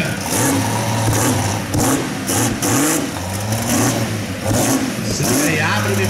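Turbocharged rear-wheel-drive drag racing cars at a track festival, engines revving and roaring loudly with repeated surges and rhythmic throttle bursts, steady throughout with a crowd or announcer voice underneath.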